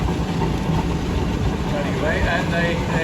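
A big single-cylinder steam engine runs at a steam rally, a steady low rumbling chug with dense mechanical noise, close by, while a commentator talks over it.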